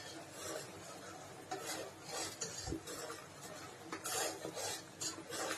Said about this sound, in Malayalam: ഇനി ഒരു 15 മിനിറ്റ് ഇളക്കിക്കൊണ്ടിരിക്കുക.